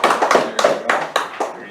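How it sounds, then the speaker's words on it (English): A short round of applause at a county meeting: a few people clapping in brief uneven bursts, close and moderately loud, with no talk over it. "I'd like to give you a round of applause for all the work you've done for the county"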